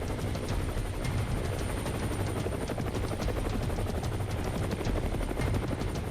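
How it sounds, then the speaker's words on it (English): An Indian Air Force helicopter comes down onto a farmer's field, its rotor thudding in a loud, steady, fast chop with turbine whine underneath, close and continuous throughout. "Wing Commander Khan chooses to set his craft down on a farmer's field. Accompanying crews hover nearby"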